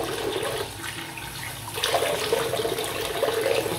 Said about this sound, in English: it takes a while for the cold water to actually get through the tap